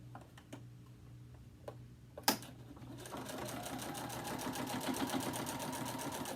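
A sewing machine stitches the mitered corner of a mini quilt, starting with a few isolated clicks and a sharp knock, then settling into a fast, steady mechanical chatter up close for the last few seconds.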